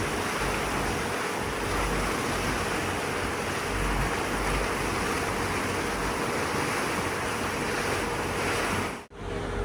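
Electric passenger boat cruising along a canal off the Sumida River in Tokyo, between Toyosu and Nihonbashi: a steady wash of water and wind rushing past the hull, constant and fairly loud, with no talk.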